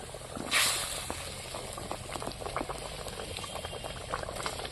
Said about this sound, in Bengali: ঝালটা সুন্দরভাবে ফুটে গেছে ফুটছে